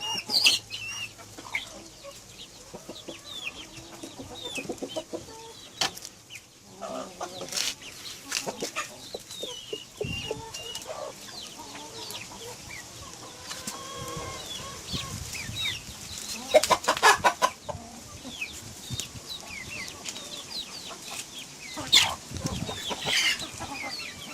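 A hen clucks in scattered, uneven bursts, near and moderately loud, with soft chirps and a few wing flaps in the background of a farmyard.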